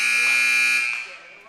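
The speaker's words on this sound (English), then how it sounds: "As we're about to hear a buzzer" A steady electronic game clock buzzer sounds loud for about a second at a varsity basketball game, then fades and cuts off, with a faint click at the end.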